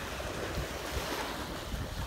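Ocean surf rolls onto a beach at sunset under steady wind, forming a continuous close broadband wash with low rumbling swells and wind buffeting the microphone, with no voices.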